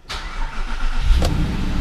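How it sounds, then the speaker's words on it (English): A VW Touareg engine starts up after an oil and filter change, with a broadband crank and catch, then settles into a steady low idle rumble that carries on alone, close by and fairly loud. "starting it up again"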